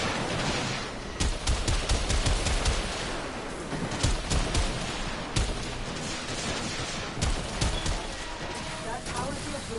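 Gunfire in the video game Warframe, with rapid volleys of shots layered over a dense game soundscape with thumps and effects, under intermittent talk.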